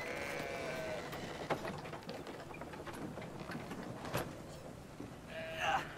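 Sheep bleat in the video game Brothers: A Tale of Two Sons, a few short calls rising over a steady ambient game background, with one louder bleat near the end.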